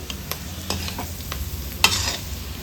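Chilli pork, Coorg style, stirred and sizzling in a pan, with a steady frying hiss, several soft scraping stirs and one louder clatter near the end, no voices.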